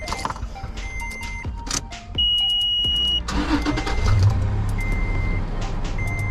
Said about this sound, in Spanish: Vamos a prender el auto.